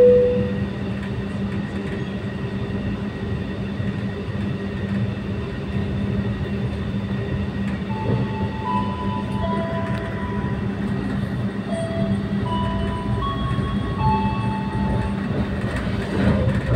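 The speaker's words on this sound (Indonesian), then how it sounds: "selamat datang di Kereta Api Parahyangan yang akan mengantarkan kita ke tujuan akhir stasiun Bandung" A Parahyangan passenger train runs steadily toward Bandung, with a continuous low rumble of wheels on track and faint squealing tones inside the carriage, no speech, constant in level throughout.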